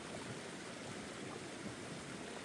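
A creek near a campsite at Marias Pass in Montana rushes steadily, a soft continuous wash of flowing water heard alone, with no voices.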